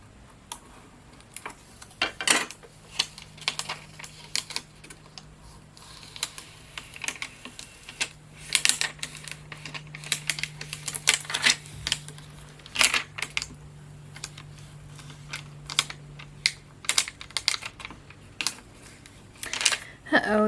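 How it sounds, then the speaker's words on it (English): A scraper tool rubs across vinyl decal material for a fall and Halloween craft, followed by transfer tape being peeled up, giving close, uneven scratchy clicks and crackling bursts with a low hum underneath. "Alright, now I'm going to take my scraper tool. Alright, let's go ahead and pull up the transfer tape."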